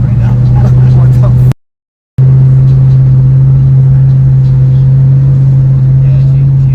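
Engine of a 1100 hp big-turbo LS-swapped 2003 Nissan 350Z pulling hard on wastegate pressure, a loud steady droning roar heard from inside the car, cut by a brief dropout, with voices talking over it.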